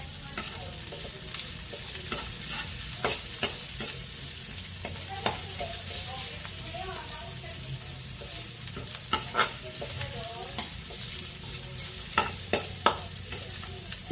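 Chopped onion sizzles steadily in a frying pan while a utensil stirs it, producing a constant close frying hiss with repeated scraping clicks from the stirring.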